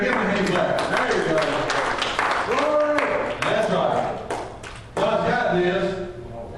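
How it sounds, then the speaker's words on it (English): A church congregation stands and claps in praise, a dense run of hand claps mixed with voices and a brief dip before resuming. "Give him a hand clap."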